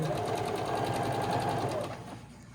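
A sewing machine stitches fabric at a steady fast whir with rapid even needle ticks, close by, then stops and leaves quiet room noise for the last half second.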